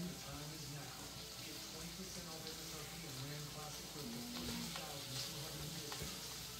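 Chicken tortellini sizzles spread across a wide flat griddle, giving a continuous soft frying hiss with faint crackles, low and steady throughout, with some quiet background clatter.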